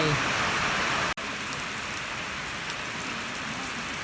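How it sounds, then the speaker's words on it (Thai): Heavy rain pours steadily in a dense, continuous hiss close by, broken by one very brief dropout, while someone talks over it during a test of a 140-watt amorphous solar panel. "ตอนนี้คือฝนตกหนักนะครับฝนตกหนักมาก"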